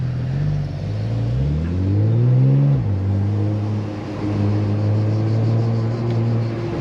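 A Porsche Turbo S fitted with a new exhaust line revs up in rising sweeps, peaks sharply, drops, then settles into a steady deep drone, loud and close.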